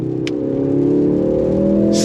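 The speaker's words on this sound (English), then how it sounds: "Love the pop out of the exhaust" A 2024 Mercedes AMG GLC 43 engine climbs under throttle with a rising drone heard from inside the cabin, and one brief sharp pop near the start with another at the end.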